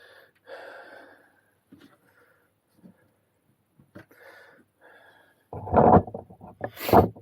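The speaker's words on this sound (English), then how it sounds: "My breathing is getting really bad now." Heavy, laboured breathing from a person doing woodwork while fitting oak doors, with quiet gaps and scattered handling noises, then loud, close, rough breaths building near the end.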